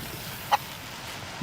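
A rooster in the survival video game DayZ gives a single short cluck partway through, set against a quiet hiss of in-game ambience.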